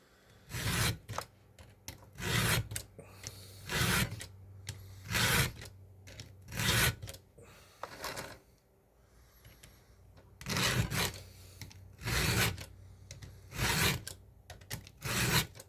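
A chainsaw chain gets its cutting teeth and rakers filed together with a combined sharpening tool, producing loud rhythmic rasping strokes in two runs separated by a short quiet pause, close up.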